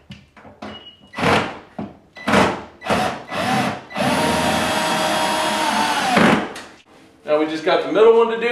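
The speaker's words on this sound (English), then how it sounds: "go ahead and put the screw gun on it" Cordless screw gun driving screws to mount an over-the-range microwave, with a sustained whirring run of about two seconds mid-clip between shorter bursts, clunks and handling knocks, and a voice speaking near the end.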